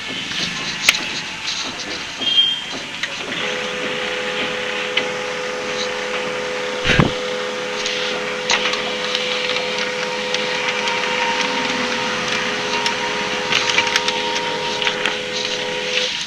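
An HP M1005 laser printer runs a page after its cartridge is refilled, giving a steady mechanical hum with faint rubbing and clicking, close and continuous, with one sharp thump partway through.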